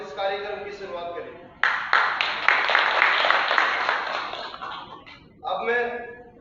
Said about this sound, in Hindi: कृपया जोरदार तालियों से स्वागत इस कार्यक्रम की शुरुआत करें।